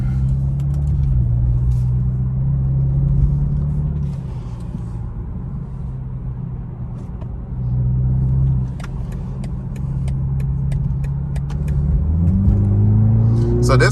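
A BMW 3 Series engine in sport mode, a steady low rumble from inside the cabin that swells at about 8 seconds and again near the end as the car accelerates, loud and continuous.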